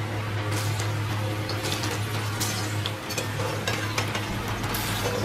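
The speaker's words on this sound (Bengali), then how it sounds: "মাছের কিউবগুলোকে ভেজে নিলাম" Chital fish cubes frying in oil give a steady, soft crackling sizzle with scattered light ticks and pops, fairly quiet and continuous, with no voices.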